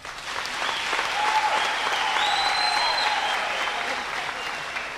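Sustained applause from a church congregation, steady and fairly loud throughout, with a few voices faintly mixed in.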